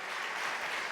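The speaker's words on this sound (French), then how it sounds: "On peut vous applaudir." Congress delegates applaud a speaker in a hall, a brief, even burst of many hands clapping, moderately loud.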